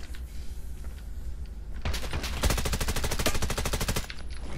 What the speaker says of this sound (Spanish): ¿A quién está disparando?